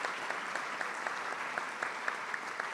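Steady applause from an audience at an executive business lunch, honoring board members; a dense, even patter of many hands clapping throughout, moderately loud and without voices.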